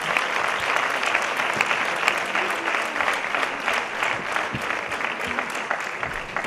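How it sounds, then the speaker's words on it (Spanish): A sustained wave of audience clapping at a local sports awards gala, even and close, holding steady for several seconds with no talk on top. "Y ese aplauso para todos ellos."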